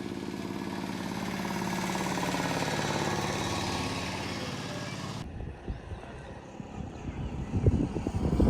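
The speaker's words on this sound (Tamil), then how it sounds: "ஹெலிகாப்டர் பாருங்க வந்தா வருது" A helicopter flying high over a small village near Palaly in Jaffna gives a steady, loud droning whir for about five seconds before the sound cuts abruptly to rougher, uneven nearby noise.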